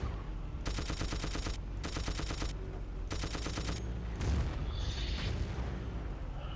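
Loud machine-gun bursts from a strafing tank in Battlefield 1942, three long rattling volleys separated by short pauses, then a heavy boom and scattered fire over a steady battlefield rumble.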